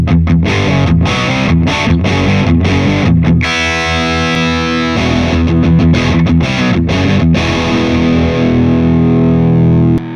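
Electric guitar played through a Poly Effects Beebo pedal using a Randall 4x12 speaker cabinet impulse response, giving a loud, distorted tone with strummed chords and sustained ringing notes that continue steadily for the full length.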